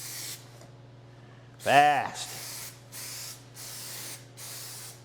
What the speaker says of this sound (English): I don't want to spray this all over my table